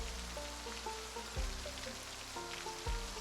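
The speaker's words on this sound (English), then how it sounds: "we're gonna have to wait for it to finish raining before we can pick it up" Steady rainfall in the game Project Zomboid, a soft continuous patter heard close, with a droning tonal music line and two low thuds layered over it, no talking.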